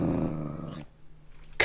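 A pet dog in the modded Minecraft pack FTB growls steadily for under a second, the rumble then dropping away to near silence before a short burst at the end.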